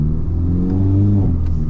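A VW Golf MK6 R with DSG gearbox pulls away under acceleration, its engine note rising steadily and loud, then the revs drop as the throttle is released, with no turbo flutter, close and alone.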